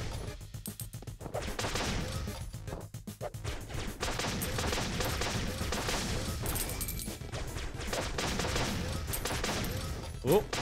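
Rockets and gunfire burst repeatedly through a Flinthook space-pirate game fight, dense and loud over steady background music, with a brief sharp crack near the end.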